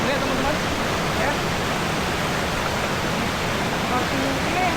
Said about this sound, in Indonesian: dengan jalur sungai yang sangat indah ya, tidak terlalu deras airnya